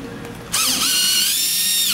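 A powered screwdriver starts up abruptly and whirs steadily while backing screws out of a massage chair's frame cross member, a close, high-pitched motor whine following a brief quiet moment.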